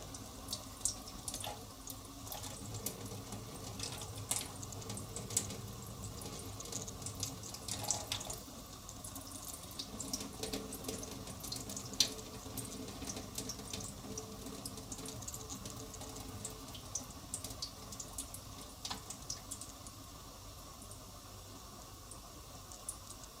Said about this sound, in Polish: Woda w garnku już całkowicie wystygła, szynkowar też już jest chłodny, więc teraz mogę odlać wodę.